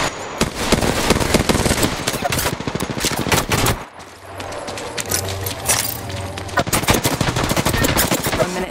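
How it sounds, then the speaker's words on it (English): Rapid automatic gunfire from the battle royale video game Apex Legends, loud and near, with dense bursts of shots nearly throughout, a brief lull around the middle, then heavy firing resumes. "I'm taking shots."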